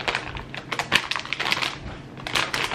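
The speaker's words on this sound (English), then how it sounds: "Can you open these plantain chips for me?" A bag of plantain chips is crinkled and torn open, producing a quick burst of sharp, irregular plastic crackles and rustles close to the listener, with no talking.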